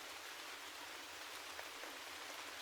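Rain falls on tree leaves as a steady, soft hiss of countless drops, even and unbroken, with no voices present.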